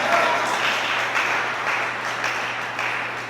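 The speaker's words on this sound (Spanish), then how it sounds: "Dale un fuerte aplauso a Él y a su nombre." A church congregation claps continuously during a sermon in a sustained, even wash of applause with no pauses or voices standing out.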